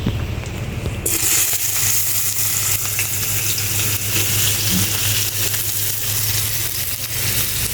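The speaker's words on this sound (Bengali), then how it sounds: "দুটা তেজপাতা সুন্দর করে একসাথে ভেজে নেবে" Bay leaves with whole cumin frying in hot oil for moong dal muri, a steady close sizzle and crackle running throughout, loud and unbroken, with no talk.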